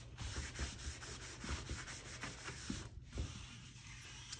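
Steady sanding of a vintage wooden sled, a continuous rasping rub with repeated back-and-forth strokes, close and fairly loud, with no voices.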